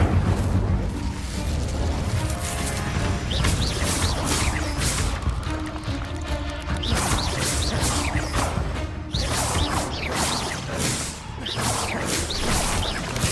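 The Incendio fire spell cast in Hogwarts Legacy, a dense roaring burst of flame and crackling blasts sustained loudly throughout with whooshing surges, no talk.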